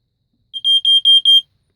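Vintage second-generation First Alert SA67D smoke detector sounding its test alarm, four loud, sharp, high-pitched beeps in quick succession with clean silence around them.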